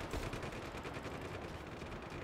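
A mounted gun firing in Just Cause 3, heard as a rapid, continuous burst of automatic shots with a steady rattling rhythm, fairly close and alone, with no voices.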